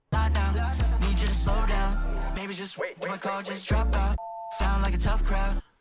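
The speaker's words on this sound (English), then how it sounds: "So that phone rang." A telephone ring effect inside a song: loud tonal rings with repeated bursts, short gaps and a brief high beep near the end, blended with the music.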